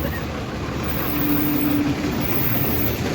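Vehicles idle and creep in a traffic jam on a mountain road between Haridwar and Gaurikund, heard from aboard a bus, with a steady low engine rumble, a broad continuous roar and a faint brief tone in the middle.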